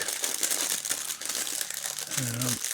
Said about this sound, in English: Sorry about the crinkling if you're listening with headphones.